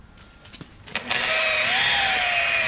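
Rotary polisher buffing out wet sand marks on a car's paint: after a few light taps and handling knocks, the machine spins up at about one second into a steady, close whirring drone that holds to the end.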